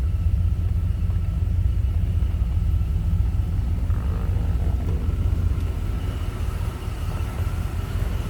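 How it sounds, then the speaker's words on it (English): A 1979 Pontiac Trans Am's 403 V8 idles with a steady, deep low rumble from close by, with no voices over it. "Nice little rumble coming out of that 403."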